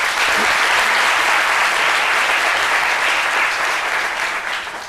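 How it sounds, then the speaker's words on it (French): A comedy club audience claps in loud, sustained applause that holds steady for several seconds before easing slightly at the end. "Je pense que ça s'applaudit quand même."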